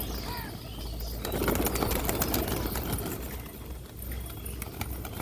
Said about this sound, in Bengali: বন্ধুরা একটা পায়রা ধরতে গিয়ে ঘাম ছুটে যাচ্ছে